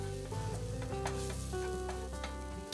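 Flour being worked into onions sizzling in a pan for a beef barley braise, a steady frying hiss with soft stirring scrapes, alone with no talk.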